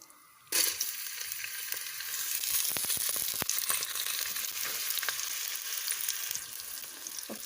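Macaroni and potato frying in hot oil, a loud steady sizzle bursting in after a brief quiet start, with scattered crackles and pops throughout and no voices.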